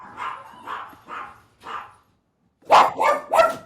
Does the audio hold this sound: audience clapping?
no